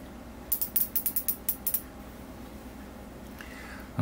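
Ratchet with a slip clutch on a model ship build, giving a quick run of about nine crisp, close clicks in steady rhythm, then quiet with a faint brief scrape before a thump at the end.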